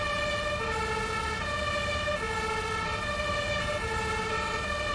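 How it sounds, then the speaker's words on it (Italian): Emergency vehicle sirens in Farming Simulator 19, at a railway accident scene, wail loud and continuous, with overlapping up-and-down tones repeating about every second over a low engine rumble, with no talking. "Spegniamo le sirene."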